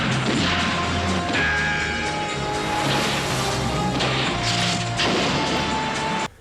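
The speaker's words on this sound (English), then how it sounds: "Oh, the car falls off the side of the mountain." A car tumbles off a mountainside in the 1969 James Bond film On Her Majesty's Secret Service: loud, sustained crashing and rumbling with dense impacts over a film score, ending abruptly.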